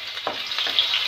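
Garlic and ginger frying in a pan for a spicy mushroom curry, a close bright sizzle with a few soft stirring scrapes, steady over a brief moment without speech.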